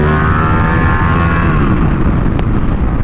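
A Suzuki Hayabusa motorcycle engine drones loud and close while riding, a steady sustained roar with a rising pitch through the whole stretch and no voices over it.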